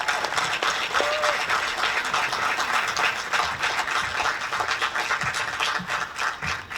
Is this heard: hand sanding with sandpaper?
no